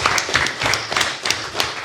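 Scattered clapping for a colleague on a French talk show, a handful of people applauding in uneven bursts for under two seconds, fairly close, with a faint voice underneath.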